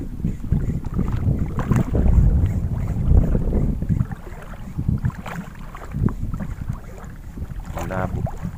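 Wind buffets a small boat out on murky water during fishing, a steady broadband rush with gusty swells, heavy throughout and loudest near the middle, with faint speech-like sounds at moments.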